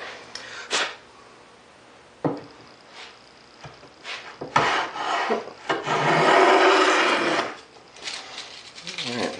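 Hand plane cutting wood after sharpening, a few scattered rasping strokes early on, then a longer louder shaving pass in the middle, with brief knocks and scrapes between.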